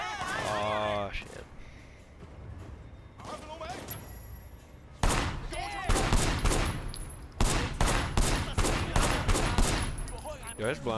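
Blind-fire gunshots in the video game Sleeping Dogs, a burst of loud rapid shots and impacts in a gunfight, mixed with game sound effects and talk over the top.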